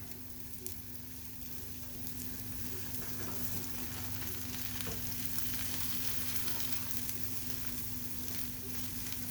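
A hot pepper omelette fries in a pan, giving a steady, soft, even sizzle with faint crackling that holds unbroken from start to finish.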